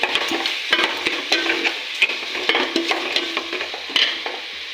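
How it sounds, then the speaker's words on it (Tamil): Onions salted in a frying pan sizzle steadily while a spoon or spatula stirs them, scraping and clinking at an uneven rhythm, close by with no talking. "உப்பு போட்டாச்சு நல்லா இப்போ கிண்டி விட்டுக்கலாம்"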